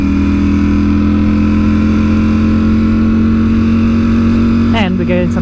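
A Ducati Streetfighter V4S motorcycle engine drones loud and steady inside a tunnel, then a sharp rev rises near the end.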